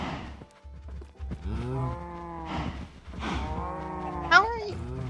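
Cows in the Minecraft video game moo repeatedly in overlapping, drawn-out calls, several close and loud, one after another with short gaps between them.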